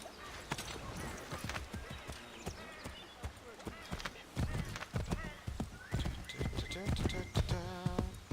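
A horse in the video game Assassin's Creed 3 clip-clops along at a quick, rhythmic gait, hooves close and crisp, with a whinny near the end and someone talking over it.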